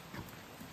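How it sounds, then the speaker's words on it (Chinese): Heavy rain falls steadily as a dense, even hiss with no pauses over a short stretch. "下好大的雨"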